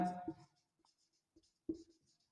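A pen or marker writes out a sentence during an English grammar lesson, giving faint, scattered scratchy strokes after a brief bit of speech at the start.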